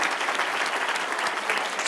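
A short burst of steady, full applause from an audience at a motivational talk, dense clapping with no talk over it.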